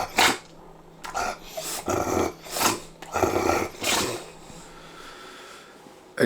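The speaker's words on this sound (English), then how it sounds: "As you can see, my dog is begging. He's down here, so any noises, that's why." A begging dog growls for food in a series of low, rumbling bursts, five or six separated by short pauses, fairly close and with no talking.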